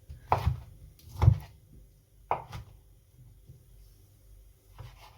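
Black pudding chopped by hand with a knife on a board, a few sparse, soft thuds at irregular intervals, close but quiet with pauses between strokes.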